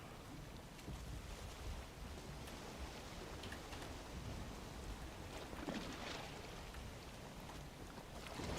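Boat sailing slowly over sea waves in the video game Valheim, a steady broadband wash of water and wind noise that holds at an even level throughout, with no talk.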